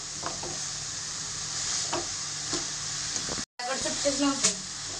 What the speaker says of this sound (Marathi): मस्त गाजर शिजत आले परतून घ्यायचं आपल्याला तुपामधनं